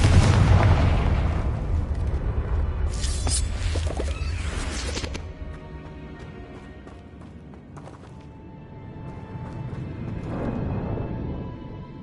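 The Confringo blasting curse from Hogwarts Legacy erupts in a loud explosive boom with rumbling bursts, then quieter crackling debris and game ambience fade out.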